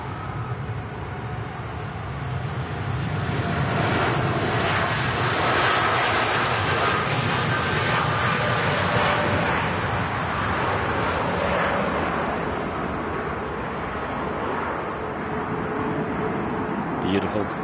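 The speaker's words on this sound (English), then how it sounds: "TUI Dreamliner now rolling." A TUI Boeing 787 Dreamliner takes off at Manchester Airport: a broad, steady, rumbling engine roar holds for the whole stretch, fairly distant and even in loudness, with no voices.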